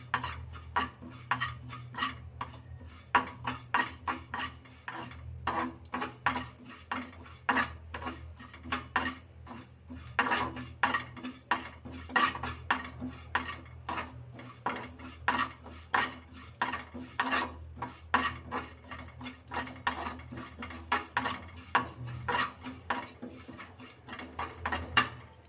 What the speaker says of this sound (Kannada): ಒಂದು 2 ನಿಮಿಷ ಸ್ವಲ್ಪ ಉದ್ದಿನಬೇಳೆ ರೆಡ್ ಆಗೋ ಮಟ್ಟಿಗೆ ಹುರಿರಿ